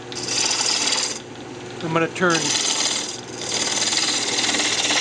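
Wooden bandsaw-box pieces spinning on a lathe while a tool scrapes and turns them, a steady rasping hiss that pauses briefly midway, with a short spoken word over the gap.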